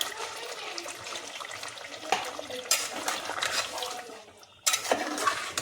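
Water is poured into a cooking pan of spiced chicken 65 masala in a home kitchen, giving soft splashing bursts with brief pauses, close and fairly quiet.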